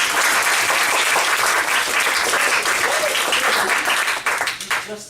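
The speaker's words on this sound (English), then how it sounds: "clap your hands." A student comedy-show crowd breaks into sustained applause, a thick wash of many clapping hands that holds steady for several seconds before quickly tapering off.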